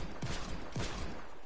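Trash cannon in a video game firing two muffled, booming shots about half a second apart, each a low thud with a quick decay, over a steady dense background wash.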